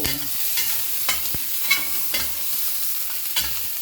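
Vegetables, including squash, are stirred and sizzling in a pan just after frying, with a steady hiss and scattered scraping stirs and clinks close up, no voices.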